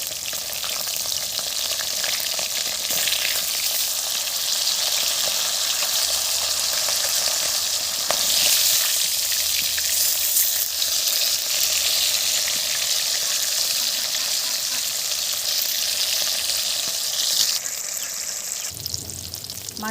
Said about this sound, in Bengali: মাছের এক পিঠ ভাজা হয়ে গেছে, অপর পিঠটা উল্টে দেবো